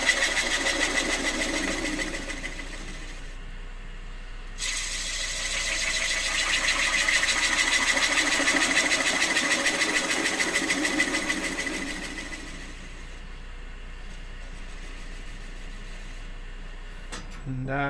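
A wood lathe spins while a gouge hollows the underside of a small cherry bowl, giving a steady mid-level whir with a whining tone and a soft scraping hiss that swells and fades as the tool cuts.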